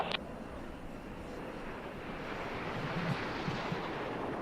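A Patrouille de France Alpha Jet roars overhead at an air show at Volkel air base in 2013, a steady, broad rush of engine noise with wind buffeting, holding loud for several seconds.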